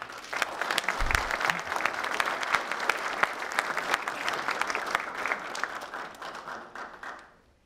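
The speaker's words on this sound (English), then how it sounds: "Let's give Richard Van Buskirk another round of applause, please." An audience at a regional rail and transit summit applauds speaker Richard Van Buskirk, a steady dense round of clapping that holds for several seconds before tapering off at the end.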